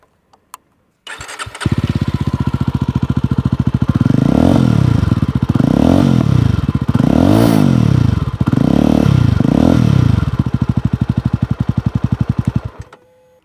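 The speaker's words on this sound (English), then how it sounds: "there's a lovely new soundtrack to accompany" A Jawa 350 motorcycle engine starts with a clatter, then revs up and down in several swelling bursts before dropping to a steady idle and cutting off.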